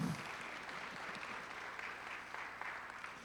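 Audience at a church facilities town hall meeting giving soft, distant applause, a faint even patter of clapping after a brief voice at the very start.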